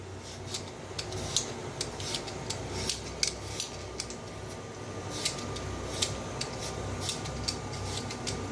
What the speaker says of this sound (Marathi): तर बटाटी साल काढून घेऊया